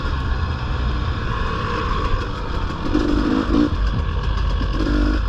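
A dirt bike engine runs steadily while the bike is ridden on an enduro trail, a loud, continuous engine drone with slight rises in revs and no talk over it.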